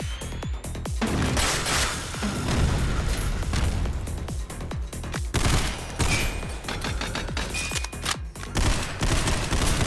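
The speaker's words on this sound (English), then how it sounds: "So we flashbang that." Video game firefight with a flashbang grenade and sustained gunfire: dense, loud bursts of rapid shots and booming blasts continue almost without a break, close and heavy, with no talking.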